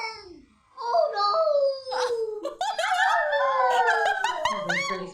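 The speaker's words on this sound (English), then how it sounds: "I love that they howl!" Cartoon dogs from Bluey howl together in long, rising and falling wavering tones that overlap, loud and close, with yips between the howls.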